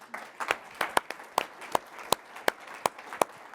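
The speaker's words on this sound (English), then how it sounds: "Surprised that got a round of applause." A small audience claps in sparse, separate hand claps rather than a full roar, each sharp and distinct at an uneven rhythm, moderately close and fairly quiet, with no talk over it.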